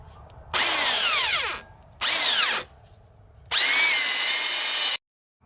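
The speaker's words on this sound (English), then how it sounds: "start drilling out the holes across the top" A power drill bores holes across the top of a wood storage build outdoors, in three loud, close bursts of whining motor whose pitch falls as the bit bites, with short quiet gaps between.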